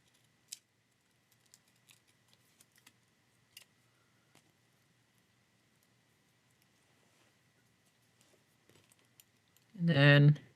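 Scissors cut paper for a planner as a few faint, sparse snips and clicks in a quiet room, followed at the end by a brief, louder burst of voice.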